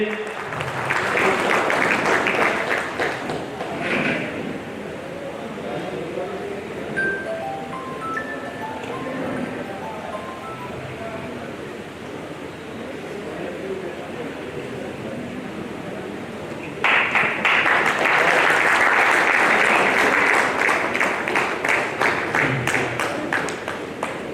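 Loud, dense applause from a crowd at an honouring ceremony for descendants of freedom fighters in Kanpur, fading into murmuring and ambient noise, then a second strong burst of clapping near the end.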